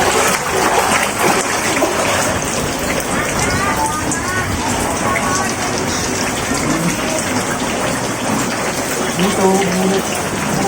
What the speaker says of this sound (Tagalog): Grabe baha dito mga kahid.